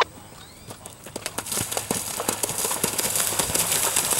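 Quarter horse hooves clip-clopping at horse trials, a run of sharp hoof strikes that start sparse and build into a quick, steady rhythm, close and clear over faint ambient noise.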